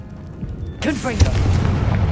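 A Confringo fire spell blast in the Hogwarts Legacy video game bursts in suddenly after a quiet start, a loud crackling blast with swooping whistling tones, then a steady roaring rumble with a few thumps.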